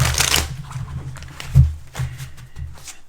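A deck of tarot cards is shuffled by hand, giving soft, quick papery riffles and flicks with a louder slap partway through, close and alone.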